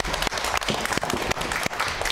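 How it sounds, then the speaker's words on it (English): Audience at a children's author event clapping for pupils coming up on stage, a steady, fairly close patter of many hands with a few sharper individual claps standing out. "Let's have a round of applause."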